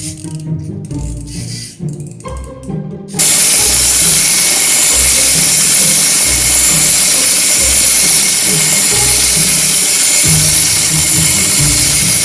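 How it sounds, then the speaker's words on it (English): A moving Halloween hand decoration, worked by turning a small wheel, gives a few seconds of uneven rattling clicks, then a loud, steady mechanical whirring rattle that runs on close up. "There is a special hand. It can move when I turn this little wheel."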